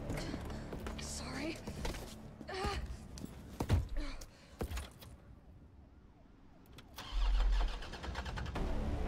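A car engine in the Resident Evil 3 video game cranks and fails to start. Repeated grinding attempts come in bursts, followed by a louder engine surge near the end, with game effects and talk mixed in.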